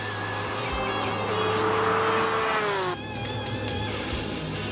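A Ferrari F50 at top speed in sixth gear around 8300 rpm on the Yatabe test course, a loud sustained engine howl with a smooth pitch change, then a steady high-speed roar with wind noise.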